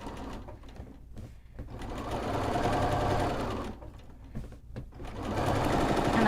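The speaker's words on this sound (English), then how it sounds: "I'm just going to sew 1/8 of an inch all the way down that piece through just my lining and my seam allowance" A sewing machine stitches 1/8 inch from a seam through lining and seam allowance, running in close, fairly quiet bursts of rapid mechanical whirring with short pauses between them.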